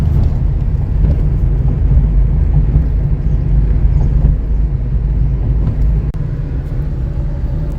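A car cruises along a highway flyover in Kolkata, bound for the airport, its steady, loud road and engine rumble droning on continuously with no breaks.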